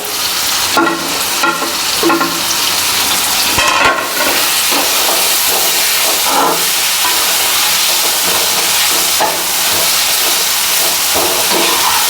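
Masala and capsicum for pasta sizzle in a pan, with a spoon stirring and scraping in repeated bursts over a steady hiss, close and fairly loud.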